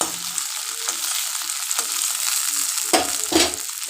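Fresh, tender curry leaves picked from a home garden crackling and frying in hot oil for South Indian style rice, a dense close sizzle with a couple of louder spits near the end, no voices.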